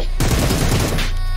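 Rapid tap-fired gunfire in a mobile shooter game, a short dense burst of close, sharp shots lasting about a second, starting abruptly and then dying away.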